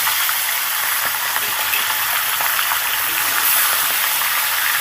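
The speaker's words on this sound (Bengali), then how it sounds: "দুটো মাথাকে আমি তেলের মধ্যে দিয়ে দিলাম" Two fish heads fry in hot mustard oil, giving a loud, steady, close hiss and sizzle that carries on unbroken with no voices.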